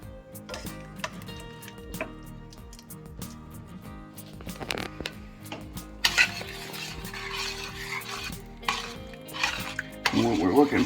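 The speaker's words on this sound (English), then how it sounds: "We're going to just incorporate this right inside the beans." A spoon scrapes and clinks around a pot while cooked sausage is folded into southern red beans, with a steady run of stirring knocks and metallic taps that grow louder and busier toward the end.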